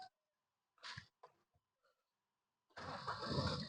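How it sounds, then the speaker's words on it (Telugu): A Maruti Celerio VXI car is cranked and starts in a single attempt, with a short whirring crank followed by the engine catching into a steady idle. A few faint clicks come beforehand. "సింగిల్ స్ట్రోక్ లో వెహికల్ అయితే స్టార్ట్ అయింది."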